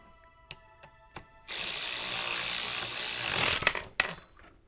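An impact wrench in a garage bursts into a sustained loud, harsh run lasting about two seconds, framed by a few sharp clicks before and clattering knocks after, with no talking.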